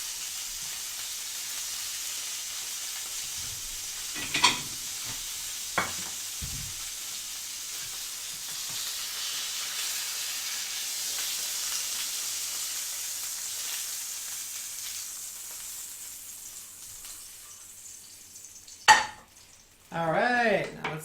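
Food fries in hot oil with a steady, close sizzle that hisses on for most of the stretch, broken by a few sharp clatters of a pan and utensils near the end.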